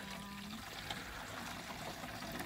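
Water fetched at an outdoor spring or well being poured, a steady trickling stream with a low hum early on, continuous and moderately near with no talk over it.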